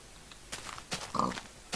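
A pig in the video game Minecraft grunts a few times in short, soft bursts, close but fairly quiet, with no talking.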